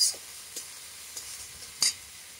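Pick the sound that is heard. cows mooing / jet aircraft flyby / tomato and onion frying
tomato and onion frying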